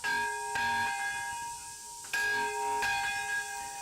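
The Nagasaki Peace Bell, dedicated at the 28th Annual Nagasaki Peace Ceremony, rings out in three loud, resonant strikes, each clanging onset followed by a long sustained metallic hum that decays slowly between hits.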